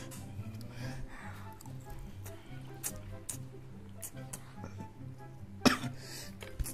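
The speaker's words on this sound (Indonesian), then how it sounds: "Jangan batuk." A person gives one sharp, loud cough late on, with some quieter throat sounds earlier, against a low, busy background of indoor chatter and clatter.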